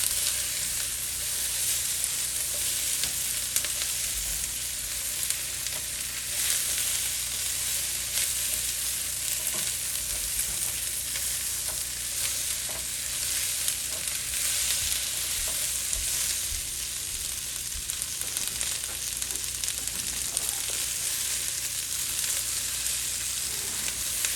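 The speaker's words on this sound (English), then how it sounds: "Adding more onions. Mix it up." Onions and tofu stir-fry in a hot pan, a dense, even sizzle that holds steady for the whole stretch, close up, with faint stirring scrapes and no voices.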